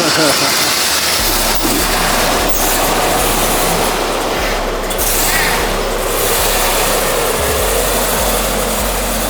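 A truck's engine roars steadily through a burnout, loud and close, with a continuous low rumble and harsh broadband noise that barely varies throughout.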